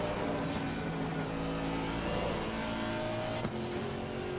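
GT3 race car approaching in the Assetto Corsa Competizione racing game, a steady engine drone with tonal harmonics shifting in pitch as it closes in, a brief sharp transient near the end, played fairly quietly without talk.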